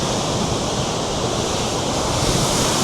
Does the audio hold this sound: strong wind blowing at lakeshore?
yes